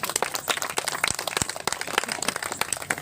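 Wedding guests at a holy Christian ceremony break into scattered applause, with quick, irregular claps from several people filling a short burst at moderate distance.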